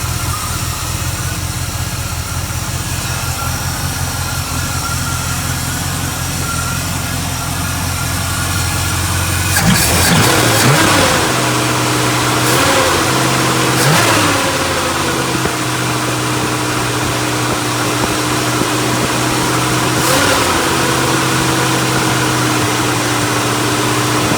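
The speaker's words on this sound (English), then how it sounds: "we got it running with a new carb on there" A Chevrolet Monte Carlo SS V8 idles steadily with a newly fitted Holley Street Warrior carburetor, a low, continuous rumble heard close up. Around the ten-second mark it revs in several short blips, and one more rise comes near the end.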